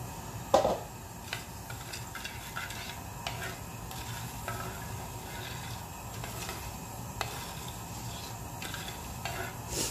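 Whole spices sizzling in melted fat in a heated pot, a steady low crackle with faint stirring and a sharper clink near the start, no talking.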